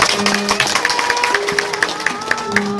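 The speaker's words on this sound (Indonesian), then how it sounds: "Tepuk tangan untuk Pak Direktur" An audience at a farmers' gathering in Pemalang claps for a director with rhythmic, fairly loud clapping, while tonal music or voices carry on underneath.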